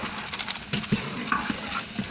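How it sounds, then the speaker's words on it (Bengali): Bhuna khichuri with meat is stirred in a pot, giving soft scraping and patting strokes over a low steady sizzle, close but fairly quiet and irregular, with no talk. "ওই যে কি খিচুড়ির নাড়া দিতেছেন"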